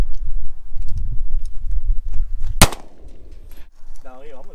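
A handgun fires once at an outdoor shooting range, a single sharp, loud crack with a ringing decay, preceded by low rumbling handling noise and followed by a brief faint voice.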